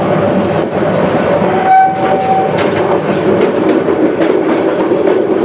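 The Subarna Express, running from Chattogram to Dhaka and moving slowly just after leaving a station, gives a loud steady rumble and wheel clatter, with a brief horn blast partway through.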